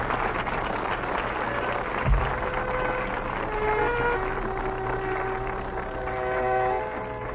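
A train rumbles steadily along with a low continuous roar, metallic squeals and tonal whines rising over the noise, and a brief thump partway through, on an old-time radio comedy.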